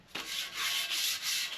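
Paint on an alloy wheel is sanded by hand in several rhythmic rubbing strokes, close and clear, with no voices.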